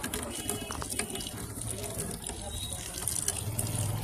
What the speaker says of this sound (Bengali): এই যে জলটা পড়ছে, উপর থেকে জলটা পড়ে, লাইনটা ক্লিয়ার হয়ে গেল।